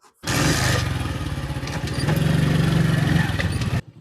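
A motorcycle engine near a forest road revs up close and loud, running in a steady throbbing putter for a few seconds before cutting off abruptly.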